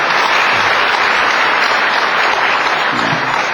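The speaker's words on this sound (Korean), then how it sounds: "여러분 스스로 우리 자신을 위해서 박수 한번 부탁드립니다" A book concert audience applauds in a dense, even roar of clapping that holds steady and loud throughout, with a brief voice surfacing near the end.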